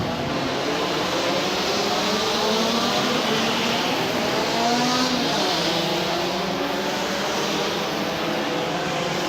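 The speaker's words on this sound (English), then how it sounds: "Green flag is waved and the cars now are released with Vijay Kumar leading them away." Saloon race cars roar away from the green flag on a 3.7 km circuit at the MRF Challenge 2018, a loud, dense, continuous wall of revving engines with rising pitch sweeps throughout.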